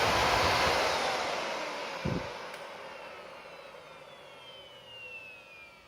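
A Miele Callisto S5281 canister vacuum's motor winds down after switch-off, its steady airy roar fading while a whine glides downward. It ends in a soft, close hum with no voices.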